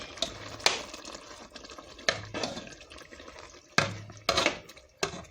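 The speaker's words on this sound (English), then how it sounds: "now you add your cream of mushrooms and your tomato paste, and you just stir that up." A spoon scrapes and splashes through a thick mix of cream of mushroom soup and tomato paste in a pot, several short wet stirring bursts separated by brief pauses, close and fairly quiet.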